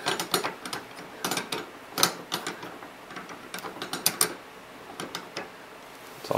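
A DIY R8 tap driver being fitted into a Bridgeport milling machine, with a dense run of close metallic clicks, knocks and ratcheting rattles from handling and seating the tooling.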